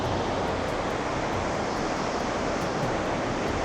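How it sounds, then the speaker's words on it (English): Victoria Falls waterfall roaring: a dense, steady wash of broadband rushing noise, constant and even without pauses, heard alone at a moderate level with no talking. "this right behind me then is Victoria Falls, the largest waterfall in the world"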